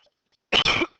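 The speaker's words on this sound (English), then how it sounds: "I may start coughing in the middle of it" A single harsh cough from a person with a slight cold, a short raspy burst after near silence, close and fairly loud, with the start of another sound at the very end.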